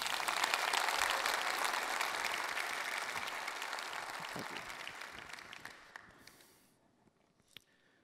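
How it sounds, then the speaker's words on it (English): Broad audience applause fills a keynote hall, steady and dense at first, then slowly thinning and fading away, with a few last isolated claps at the end. "let's give them a big round of applause"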